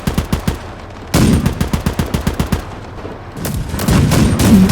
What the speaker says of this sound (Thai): เอ้ยมันมีคนยิงเราอยู่นะรถถังอ่ะ